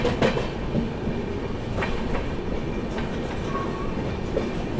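The 12286 Nizamuddin–Secunderabad Duronto Express runs straight through Sevagram Junction without stopping, a loud, continuous rumble of wheels on rail with rhythmic clickety-clack beats over points and joints.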